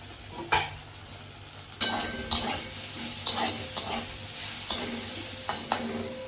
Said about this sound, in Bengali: ভেন্ডি ভাজা বসিয়েছি